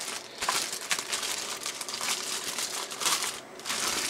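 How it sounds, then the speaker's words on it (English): Packaging of a Dyconn Dubbler hard drive dock, an aluminum and plastic unit, is opened, with close, repeated crinkling and rustling of plastic and paper in uneven bursts. "So let's go ahead and open this up."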